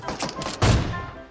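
A rapid burst of video game gunfire, a rattling fusillade of shots followed by a heavier booming blast that fades out over about a second.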